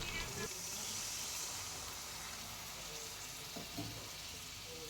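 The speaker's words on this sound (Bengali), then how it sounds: "এরপর দিয়ে দেবো আমি গরম জল।" Hot water goes into a pan of jackfruit and prawn curry with boiled potatoes, its spice paste already fried down. The result is a steady, close hiss and sizzle with faint bubbling and a few soft clinks.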